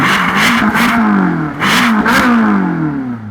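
Ferrari California with a 4.3 litre Maranello V8 starting up, then revving hard twice with rising and falling engine pitch, loud and close with no talk over it.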